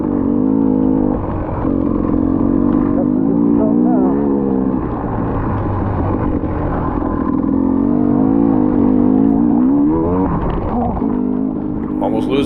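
Dirt bike engine during a hare scramble race at Riverglade, revving and bogging in uneven surges under a rider's continuous talking, with clattering rises and falls of throttle close by.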